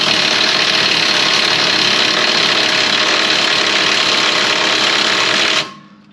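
Battery-powered impact gun hammers rapidly and continuously on a seized bolt on a Ford, loud and close for several seconds before cutting off abruptly.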